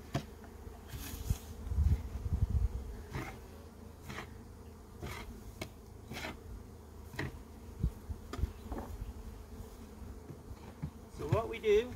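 Honey bees buzz continuously in a small four-frame nuc hive, a soft, steady drone close by with occasional individual bees passing nearer, and no talking.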